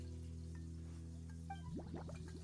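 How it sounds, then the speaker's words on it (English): Water gurgles and bubbles in Genshin Impact, a cluster of wet bubbling pops rising midway over a steady low game hum, close and moderately loud. "Gurgling noises can be heard coming from the water."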